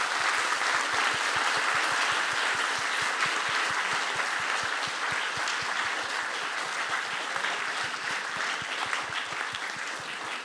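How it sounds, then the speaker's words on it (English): Dense, sustained applause from a large audience in a lecture hall for a guest speaker, steady and loud throughout with individual claps blending into a continuous roar. "So everybody give Onishi a big round of applause."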